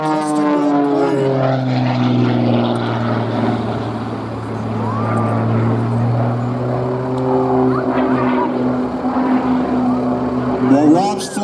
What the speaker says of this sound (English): enjoy Rob Holland and his MXS RH custom-built plane